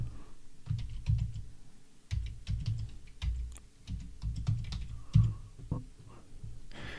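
Computer keyboard keys tapped in quick irregular bursts while an email address is entered, close and fairly quiet with brief pauses between runs of clicks.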